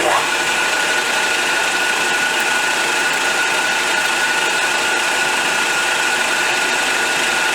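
A machine tool takes a sizeable cut from a BSA B50T motorcycle part, turning clockwise at reduced speed. It gives a steady, loud, unbroken whine and grinding hum throughout.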